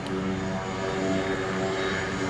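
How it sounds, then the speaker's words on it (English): A PT6 turboprop engine on a Beechcraft C90 King Air runs up after heavy maintenance, giving a loud, steady propeller drone with strong tonal hum and constant broadband roar, close and uninterrupted throughout. "This is a PT6 turboprop engine. It's on a C90 King Air, I believe."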